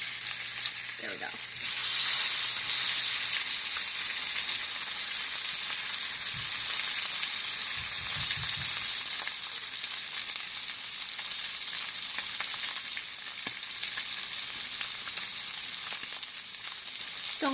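Pork chops frying in a pan, a loud, steady close sizzle running throughout, with a few low thumps and scrapes as the meat is moved and flipped partway through.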